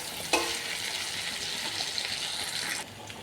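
Whole garam masala, dried red chillies and bay leaves hit hot oil with a sudden hiss, then crackle and sizzle steadily for a couple of seconds before the sound drops off sharply.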